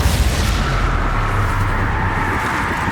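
The Confringo fire spell detonates in the video game Hogwarts Legacy, a deep rumbling blast that rolls on as a dense, loud roar for three seconds with no pause.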